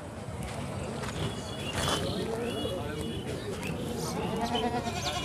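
Several goats bleat at intervals in a busy goat market at Okhla Dhobi Ghat, their calls mixing with constant nearby talking and crowd noise.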